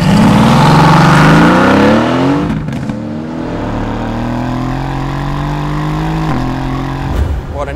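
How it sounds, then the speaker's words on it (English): A Mercedes-AMG GT S two-seater sports car's 4-litre V8 roars loudly at high revs, then drops into a lower, steady burbling drone with a brief rise near the end; a voice talks over part of it. "as soon as you start that 4-litre V8"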